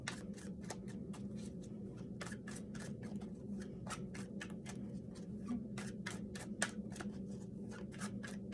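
Soft, steady crisp clicking and riffling of tarot cards being shuffled, a continuous rapid patter close by, with one sharper tap near the end.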